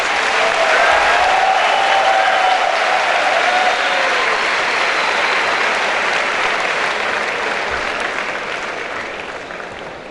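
Loud, sustained applause from a large audience at a political speech event, a dense wash of clapping that holds steady and then slowly tapers off toward the end, with no speech over it.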